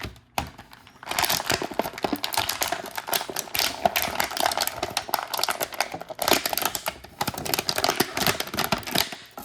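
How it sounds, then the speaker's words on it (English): Plastic packaging from a G.I. Joe action figure crinkles and crackles almost continuously at close range, with dense bursts of rustling and a short pause partway through. "There's going to be some crinkling noises."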